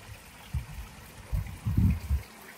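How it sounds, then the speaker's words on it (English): Water from the main pump of a garden pond trickles and splashes close by in a few short, uneven bursts over a quiet background. "And then we have water flow"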